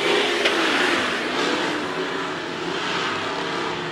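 Midwest Mod race cars roar past at Amsoil Speedway during a heat race with seven laps remaining, a loud continuous engine drone swelling as the pack goes by.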